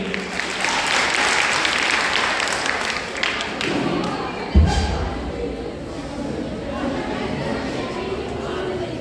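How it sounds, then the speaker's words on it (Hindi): Audience applause for a speaker invited onto the stage at a ceremony, a continuous wash of clapping mixed with murmuring voices, with a thud midway as the clapping thins and fades toward the end. "जोरदार तालियां के लिए"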